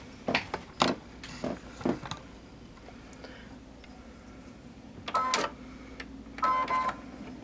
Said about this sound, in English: It's going to finish doing that decorative stitch along that edge